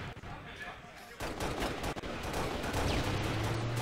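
Rapid gunfire crackles in dense, overlapping bursts during a competitive Halo: Reach match, loud and continuous over game noise.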